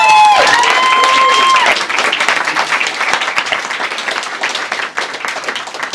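Sustained crowd applause fills the space, dense clapping with a bright tonal sound fading in the first second or two, then steady clapping continuing throughout.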